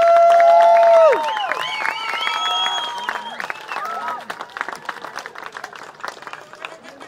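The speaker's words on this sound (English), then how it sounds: "So I'd like you to give another big round of applause for anybody that was just saluting for the service." A crowd at an outdoor Mustang car show applauds and cheers, with loud whoops and shouts at first, then scattered clapping that tapers off.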